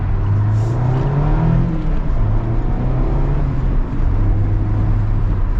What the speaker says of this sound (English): Going through the gears into Miata is always a blast.